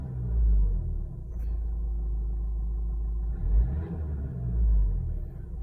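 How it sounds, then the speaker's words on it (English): A Nissan diesel car engine revving in a performance test, producing a steady, loud low rumble that swells briefly a few times, with no talking. "Let's rev it up."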